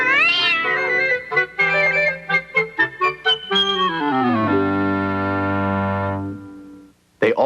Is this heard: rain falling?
no